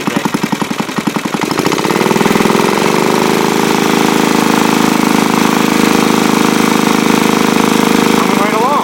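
A restored antique Briggs engine, once seized, runs close and loud, its uneven pulsing firing settling within two seconds into a steady, rough idle drone that holds to the end.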